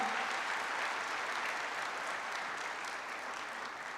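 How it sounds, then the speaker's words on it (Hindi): An audience at a poetry session during a medical conclave claps steadily, a fairly soft, even wash of applause that continues without pause and stays slightly distant. "बस हर सुनने वालों को ऐसे ही ताली मिले, है ना।"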